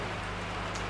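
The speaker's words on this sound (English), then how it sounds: "Apologies for the background noise, it's lashing down with rain here." Heavy rain pouring down outside as a dense, steady, loud hiss of drops that fills the whole moment without a break.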